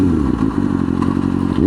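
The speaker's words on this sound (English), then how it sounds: "She sounds so good. Never sounds as good as the bagger, but definitely inline fours sound great." Kawasaki 636 inline-four motorcycle engine running steadily and loud up close, a dense rumbling drone with a rising rev at the end and light mechanical clatter.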